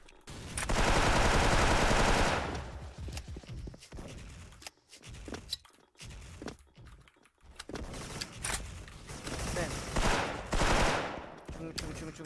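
Gunfire in the online shooter Special Force: bursts of rapid automatic shots in loud clusters separated by short gaps, with sharp single cracks between them.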